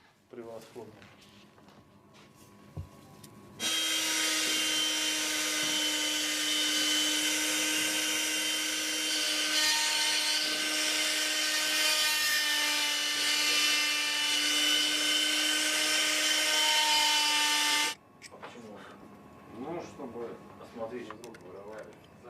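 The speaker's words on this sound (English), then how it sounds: "I can't use the drill anymore" A small high-speed drill carves mammoth ivory chess pieces in a workshop, whining loud and steady for about fourteen seconds before it stops, with talk and quieter workshop sounds before and after.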